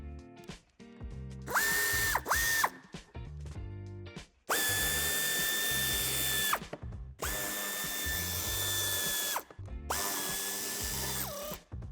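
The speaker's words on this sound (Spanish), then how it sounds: "A continuación quitaremos los tornillos de ambos pasos de rueda y de la parte inferior." A power screwdriver whines in several bursts of a second or two each as wheel arch screws come out of a 2017–2019 Audi A5 Sportback, with ratcheting clicks and handling clatter between the runs.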